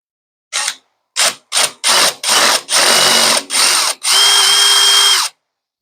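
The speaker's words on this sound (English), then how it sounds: "We'll go ahead and drill out that depth hole." A power drill spins up in a series of short bursts, each longer than the last, ending in a sustained run of loud, close whirring as it drills a depth hole.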